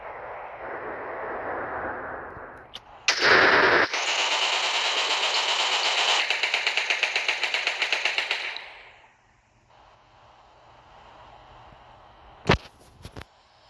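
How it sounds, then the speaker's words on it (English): Animated gunfire aimed at a zombie in a cartoon fight: a brief loud blast, then a sustained rapid-fire burst lasting several seconds that cuts off, followed by quieter background and a couple of sharp late shots. "I'm gonna be shooting the zombie before it gets us."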